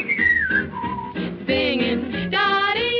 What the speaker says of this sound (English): So I whistle and sing